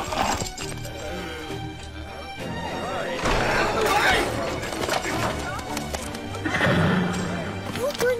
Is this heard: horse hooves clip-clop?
yes